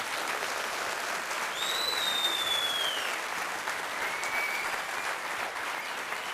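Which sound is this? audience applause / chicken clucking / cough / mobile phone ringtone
audience applause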